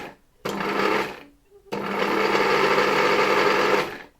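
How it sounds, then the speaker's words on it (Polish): A 1959 Tula sewing machine motor runs at full speed with a loud, dense whirring drone, first in a short burst and then in a longer sustained run after a brief pause. "maszyna rusza właściwie już w końcowym momencie, jak ten regulator jest wdepnięty praktycznie do oporu"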